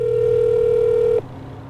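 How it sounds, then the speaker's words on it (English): A steady telephone tone holds for over a second and then cuts off abruptly, leaving a quieter line hum. "I'm going to give it a call and see what happens"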